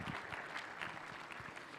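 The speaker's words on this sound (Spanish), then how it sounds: "vamos a dar fuertes aplausos con esta obra teatral" Audience applause following a church theatre play performed by a youth group at a Bible seminary, a steady wash of many hands clapping at moderate, somewhat distant level throughout.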